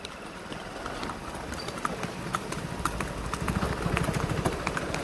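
A horse named Raja clip-clops along on a ride, its hooves striking in a quick, steady rhythm close by over a low background rumble.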